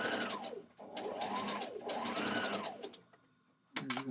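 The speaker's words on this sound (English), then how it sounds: "we're gonna look for the 1/4 inch on our sewing machine, and we're gonna stitch that 1/4 inch in place" A domestic sewing machine stitches a quarter-inch seam through dress fabric, its motor whirring in rising and falling bursts with rapid needle chatter, then slowing before a final quick run.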